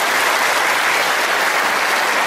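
Steady, loud audience applause fills a hall after a spiritual talk in Bali, a dense wash of clapping hands with no voices on top, sustained evenly throughout.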